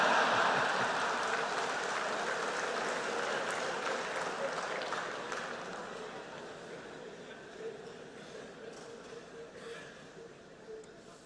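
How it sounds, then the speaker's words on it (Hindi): A large audience in a convention hall at Semicon India 2025 claps loudly, a dense wash of applause that slowly fades over several seconds. "आया हूं इसकी ताली बजा रहे हो"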